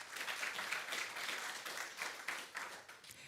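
An audience applauds at an international symposium on crop wild relatives: a continuous wash of many hands clapping, moderately soft and steady, swelling slightly in places, with no speech over it.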